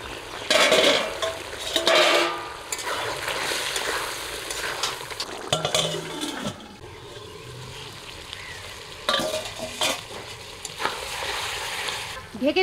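Country chicken curry with potatoes sizzles and fries in a pan covered with a bowl, crackling and spattering with clanks of the cover and stirring, broken by pauses, with a voice speaking in between.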